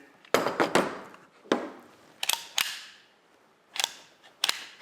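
A toy-like prop pistol's trigger is pulled repeatedly, giving crisp, close plastic clicks that come in small irregular clusters separated by brief pauses.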